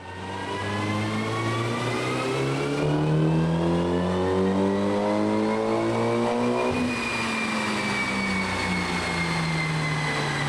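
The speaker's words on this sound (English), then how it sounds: "there is nothing like the sound of putting a car through its paces and hearing it at full RPM on the dyno" A car on a dyno screams at full RPM, a loud sustained engine roar with rising harmonic tones that climb, dip briefly as it shifts, then climb again, continuous and close throughout.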